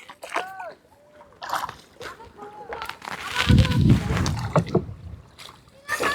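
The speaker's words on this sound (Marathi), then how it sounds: "पुढं दत्तादादाची पण होडी आहे." Small rowing boats move across open water during a Holi outing, with paddles splashing and water sloshing, loudest in the middle of the clip, while people chat nearby.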